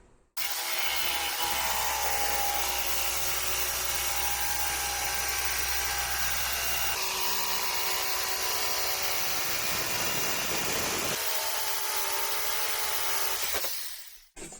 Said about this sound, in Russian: И отрежем это все при помощи лобзика.